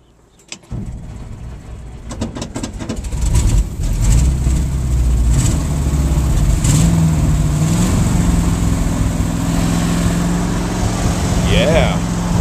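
A 1966 IHC 1100A pickup truck, sitting a long time with a rusty cable, cranks in a few quick turns and then fires into a steady, loud, low rumbling idle that holds to the end.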